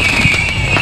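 Fourth of July fireworks display, heard as a brief, dense burst of loud crackling and popping with a sustained hiss, close and continuous.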